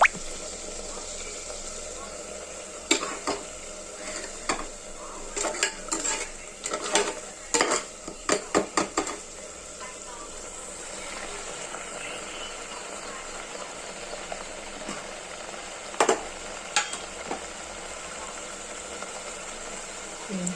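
Ingredients for chicken sherva stirred in a pan, with soft sizzling beneath a steady background and bursts of scraping and clinking between roughly 3 and 9 seconds, then sparser knocks. No one speaks.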